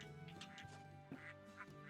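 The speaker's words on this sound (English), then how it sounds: "Now I talk to these ducks." Several quick, nasal duck quacks from the video game Baten Kaitos pop up one after another above continuous background game music, clear and fairly close.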